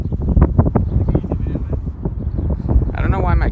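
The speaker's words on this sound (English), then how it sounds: "It's like the wind's blowing" Outdoors, wind buffets and rumbles against the microphone as a low, gusty roar under people talking nearby.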